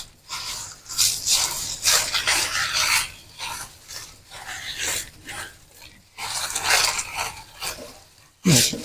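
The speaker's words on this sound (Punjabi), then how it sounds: "ਇੱਕ ਵੱਡਾ ਪਰਾਤ ਲੈ ਕੇ ਜਾਂ ਕੋਈ ਵੀ ਬਾਉਲ ਵਗੈਰਾ ਲੈ ਕੇ ਇਹਨੂੰ ਇਦਾਂ ਮਿਕਸ ਕਰ ਲਓ" Whole garam masala spices mixed by hand in a large tray, giving repeated rough, rasping sweeps and rustles in uneven bursts, close and fairly loud, with no one speaking.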